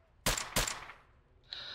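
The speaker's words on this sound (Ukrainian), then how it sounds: "Їх потрібно, друзі, розстрілювати в упор" Two sharp, loud gunshots fire in quick succession while shooting zombies in the S.T.A.L.K.E.R. video game, followed by a brief steady electronic tone; no talking.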